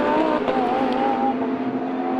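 A GT2 Lamborghini race car howls through the turns at Paul Ricard, a loud sustained engine note that shifts pitch as it carries through the corner with other cars audible behind.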